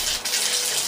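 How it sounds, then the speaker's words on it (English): Water running steadily from a tap or spray to dampen hair before shaving, a loud continuous hissing gush with a brief dip near the start and no talk. "So I'm just gonna add a little bit of water."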